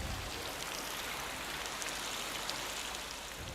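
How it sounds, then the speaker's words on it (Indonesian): Heavy rain pours steadily in a village area, a dense, even hiss of falling water that fills the whole stretch with no voices. "Di tengah hujan deras yang mengguyur kawasan ini sejak siang hari"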